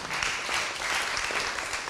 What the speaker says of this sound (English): could we have a round of applause for that, please?